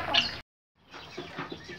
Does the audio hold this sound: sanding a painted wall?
no